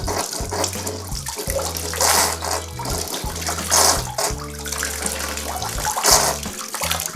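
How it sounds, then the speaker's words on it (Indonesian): Water from a household tap runs into a container, a steady splashing gush with bursts of stronger flow, close and loud with no voices. "taruh di keran, diisi air"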